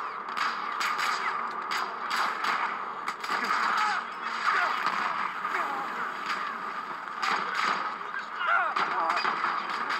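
Gunfire and artillery from the video game Battlefield 1 rattle in dense, repeated bursts and heavy booms, layered with a busy battlefield din throughout, loud and close, while voices speak over the combat.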